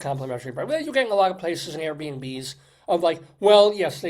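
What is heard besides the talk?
No distinct noise like a dog, phone or traffic.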